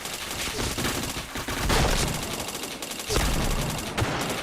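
Video game gunfire: rapid bursts of automatic shots in dense, loud clusters with short gaps, punctuated by sharper single cracks, close and aggressive.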